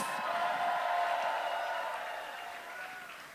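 A rally crowd at a get-out-the-vote event keeps applauding after a senator's speech, a diffuse, distant wash of clapping and crowd noise that slowly fades.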